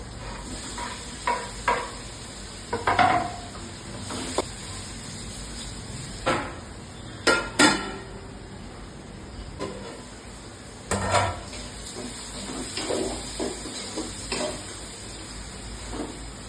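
Onions and tomatoes sauté in a pan, with a low steady sizzle under scattered scraping and clinking strokes of a spoon against the pan at an irregular pace.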